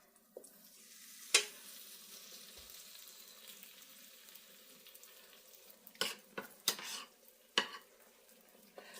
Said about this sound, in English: We're going to start dropping the fritters down by the spoonful.